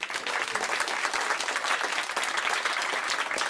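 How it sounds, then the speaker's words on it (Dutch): Dense, steady applause from a live audience welcoming Sanne to the stage at a lecture-style show, continuous clapping with no voices on top. "applaus voor Sanne"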